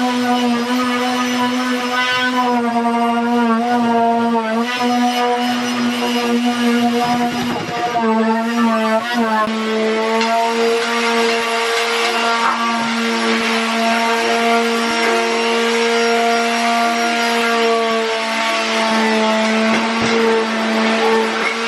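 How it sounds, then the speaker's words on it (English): Power sander smoothing a rough wooden display shelf for guitar pedals runs steadily for over twenty seconds, a loud continuous tonal whir with a brief dip in pitch partway through, close and without talk. "I'm just going to clean it up a little bit with my sander"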